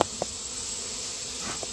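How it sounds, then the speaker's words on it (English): Honeybees stirred up by a beekeeper's smoker near a hive, a continuous close buzzing drone with a few faint soft taps and puffs over it. "Currently, I'm smoking the bees that are on the ground"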